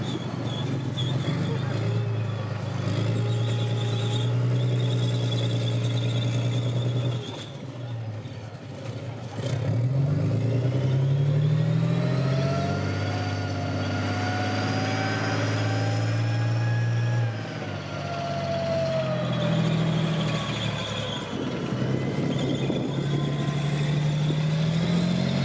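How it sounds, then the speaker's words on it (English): A CRARRV armoured recovery vehicle hauls away a broken-down Centurion tank in an arena at Tankfest, its heavy engine droning and rising in pitch as it strains, while a commentator talks over the noise. "you're actually now going to see a real live use of one of those vehicles as the Centurion will be taken away."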